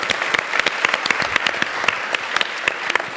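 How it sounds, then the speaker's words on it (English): An audience at an energy startup pitch event applauds, a brisk crowd of clapping hands with crisp individual claps standing out, steady and close for a few seconds. "So round of applause"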